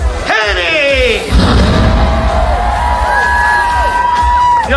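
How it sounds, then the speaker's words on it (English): A crowd cheers and whoops at a surprise 20th birthday party, with loud shouting voices and rising and falling calls from near and far, and a host's voice heard over the noise. "Your thunderous applause does not offend me."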